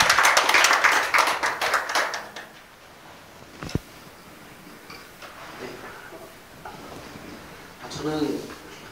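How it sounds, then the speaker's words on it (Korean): A lecture audience claps briefly and fairly loudly, the applause fading within about two seconds, followed by a sharp knock, quiet room noise and then a speaker's voice. "좋으면 박수 한번 치세요."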